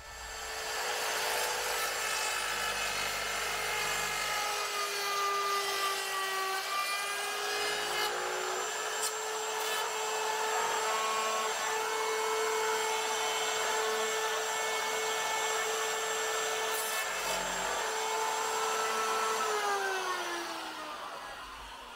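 Router cutting wood to shape a 28-foot sailboat mast, a loud steady high-pitched motor whine with tonal shifts as the bit bites into the wood, running continuously close by without talk.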